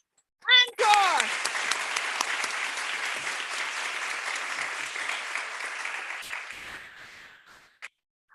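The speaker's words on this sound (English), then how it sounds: "Let's give them another hand of applause." Applause from attendees at a board meeting, starting with a sharp whoop, then a sustained wash of many hands clapping that gradually thins and fades out.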